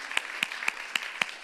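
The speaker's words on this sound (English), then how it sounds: "so let's give them a round of applause" Applause for the festival team at IDFA in a hall, heard as a few evenly spaced, crisp claps over a faint wash of quieter clapping, fairly soft overall.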